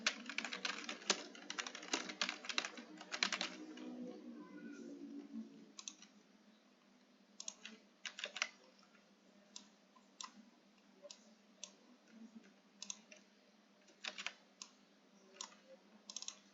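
Quick bursts of computer keyboard typing for library loan data entry, a dense run of clicks at first and then sparser, scattered keystrokes and pauses, close and fairly quiet.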